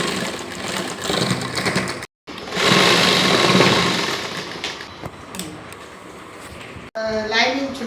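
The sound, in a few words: sewing machine stitching a churidar top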